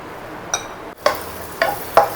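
Garlic frying in a pan for Kashmiri egg curry, with a soft steady sizzle and a few crisp stirring scrapes of a spoon against the pan, close up.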